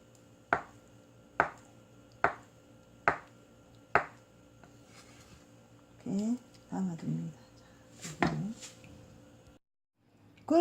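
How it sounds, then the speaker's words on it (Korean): A knife cuts tofu into bite-sized pieces on a board in five evenly spaced, crisp chops, followed by a person talking. "두부도 먹기 좋은 크기로 썰어줍니다"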